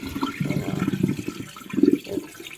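Water sloshes and swirls as rice is rinsed by hand, with two bursts of churning and draining close by, and no talk over it.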